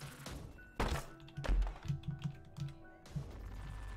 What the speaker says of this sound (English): is the keyboard clacking a problem at all?